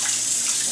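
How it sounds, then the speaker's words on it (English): Wild mushrooms being rinsed in a strainer under running tap water, a steady close hiss of flowing water that holds even throughout, with no talking. "throw them in a strainer and make sure I rinse them real well"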